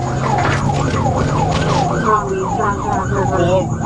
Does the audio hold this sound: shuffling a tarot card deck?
no